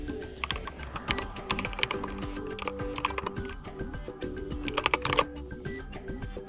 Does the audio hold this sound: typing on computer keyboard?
yes